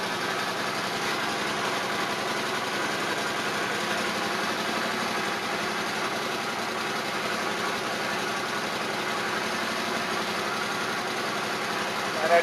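A 1981 Honda Silverwing GL500 motorcycle engine idles steadily with the choke pulled out while warming up, a constant, fairly loud running hum that holds evenly throughout without pauses.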